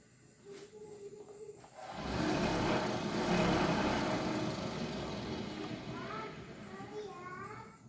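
A cotton candy machine, run at full speed with no speed controller or dimmer, gives a steady loud whooshing whir that starts suddenly and holds, with children's voices faint in the background.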